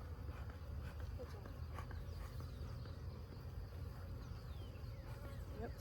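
Honeybees humming around a very full, active beehive while a super is added, a constant low drone close by with faint handling sounds and quiet voices.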